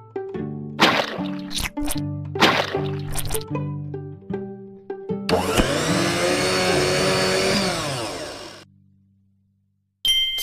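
A whirring blender in a children's math video game runs for a few seconds after a series of bright dings and thuds, then stops abruptly.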